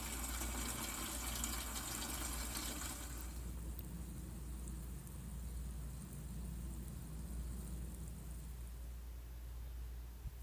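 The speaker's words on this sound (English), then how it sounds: "So I'm going to water today and make sure they're watered every day for 7 days" Water pours steadily over newly planted eggplants in a garden bed, a loud gushing stream for about three seconds that then drops to a softer, lingering trickle.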